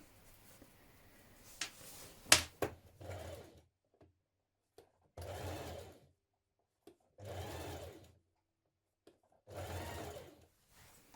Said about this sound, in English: We're going to stitch it all the way around the armhole